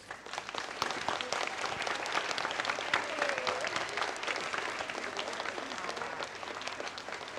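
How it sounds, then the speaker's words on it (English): Sustained applause from a theater audience for the musicians of a Little Shop of Horrors stage production, a dense, steady wash of many hands clapping at even loudness throughout, with faint voices mixed in. "who deserve a round of applause."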